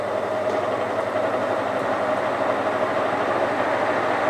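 An Eaton blower assembly motor runs with a steady, even whir and airy rush, constant and fairly loud with no voices over it.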